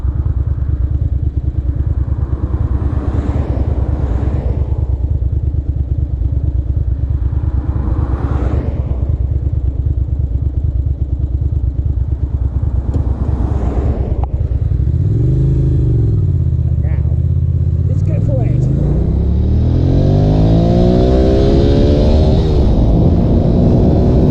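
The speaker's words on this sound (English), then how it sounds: "only then does the engine settle down" A 2001 Ducati Monster 600 naked motorcycle engine runs loud and close, a steady idle rumble giving way to several rising and falling revs that swell in pitch, with no talk over it.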